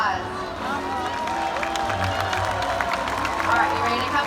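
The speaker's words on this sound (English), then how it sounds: "Everyone give them a big round of applause" Applause and cheering from a crowd at a SeaWorld orca show roll on steadily for several seconds, dense and fairly loud, with voices mixed in throughout.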